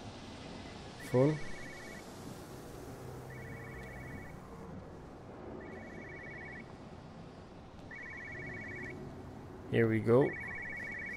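Repeated electronic telephone ring from Everybody's Gone To The Rapture, five evenly spaced trilling bursts about a second each, moderately loud over a quiet ambient bed, with someone speaking briefly near the start and again near the end.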